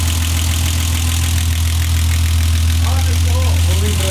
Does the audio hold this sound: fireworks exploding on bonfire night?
no